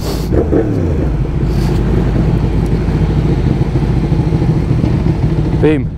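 Three freshly refueled motorcycles out riding: a steady, loud engine rumble holds throughout, with a short vocal sound near the start and a brief high tone near the end.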